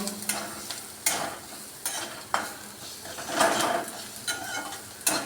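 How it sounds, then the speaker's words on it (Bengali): Spices scraped and stirred around a hot frying pan for spicy tomato chutney, with repeated metallic spatula strokes over a steady background sizzle, close and fairly loud. "এখন এটা আমি নাড়তে থাকবো"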